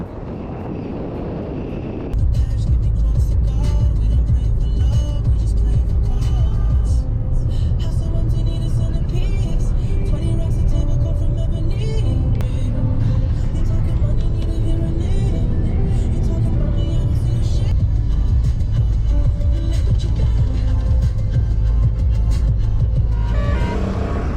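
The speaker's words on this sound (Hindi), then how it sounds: "मैं गाड़ी चला रहा हूँ। पायलट मोड में गाड़ी जाएगी।" A Maruti Suzuki Brezza cruises along a highway on a long road trip, heard from inside as a steady, loud, low road rumble with wind buffeting that starts after a brief quieter moment.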